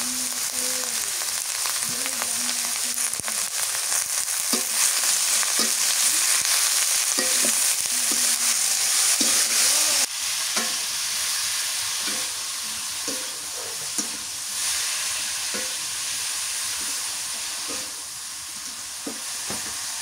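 Hilsa fish fries in hot oil with garlic paste and turmeric, giving a steady close sizzle and crackle, punctuated by intermittent scraping and stirring knocks of a utensil against the pan.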